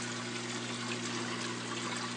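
Steady, even rush of water trickling down through a DIY wet/dry aquarium trickle filter on a rack, a dense continuous splash with a low pump hum beneath, unbroken throughout.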